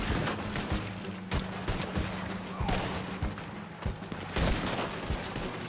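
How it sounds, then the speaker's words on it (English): Gunfire in Red Dead Redemption 2, repeated sharp shots cracking out irregularly over a busy, rumbling game background, moderately loud, with a steady low hum running beneath. "Who are you even shooting at?"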